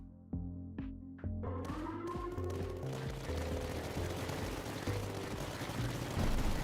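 Building turrets in the strategy game Tower Dominion fire in a few sharp separate shots that quickly build into a dense, continuous volley of gunfire and blasts, loud and close, with no voices over it.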